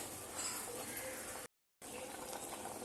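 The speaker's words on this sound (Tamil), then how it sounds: "நல்லா கொதிக்கணும்." Herbal kashayam decoction of leaves, a garlic clove and asafoetida boils in a pot, a faint, steady bubbling hiss broken by a brief dropout.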